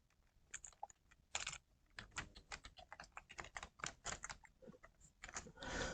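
Text being typed into a document in MS Word on a computer keyboard, with rapid close key clicks in irregular bursts and a few brief pauses, fairly quiet, with no talking.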